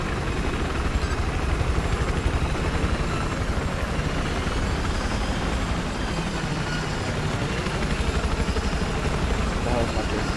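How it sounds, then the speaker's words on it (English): Steady, loud attack helicopter rotor thump and engine drone in a video game fill the whole clip without a break, with speech faintly mixed in underneath. "I say, you get in this helicopter with me."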